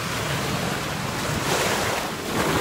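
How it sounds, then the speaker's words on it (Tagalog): Ocean surf rolling in at a beach in Sta Cruz, Zambales, with steady broadband wash and wind noise throughout, waves swelling continuously close by without any voices. "Pinuntahan pa ako ng maraming alon guys."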